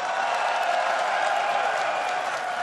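An esports grand finals arena crowd applauds and cheers at the NA LCS, a dense, steady wash of clapping and crowd noise that holds at an even level for the whole stretch.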